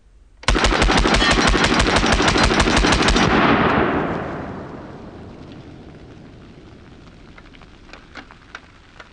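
A Reising M55 submachine gun fires one long, loud, rapid burst at targets outdoors, lasting about three seconds, then trails off into a fading echo and quiet background with a few faint ticks.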